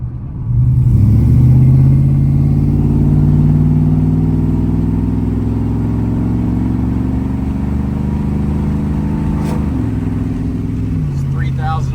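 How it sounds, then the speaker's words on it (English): A car engine revs and holds a steady climbing drone through a Flowmaster exhaust, loud and close, easing off near the end, while a person talks over it. "I don't hate this exhaust, which is bizarre because Flowmaster, gross."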